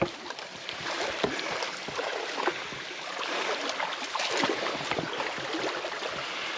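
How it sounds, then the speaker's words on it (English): Fresh spring water pours and splashes continuously near Shower Spring in Paria Canyon, a steady rushing wash broken by small irregular splashes, with no talking. "I hear water pouring."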